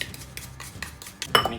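A utensil mixes black garlic ice cream base in a bowl, producing quick light clinks and scrapes in an irregular rhythm, close and clear with no talk.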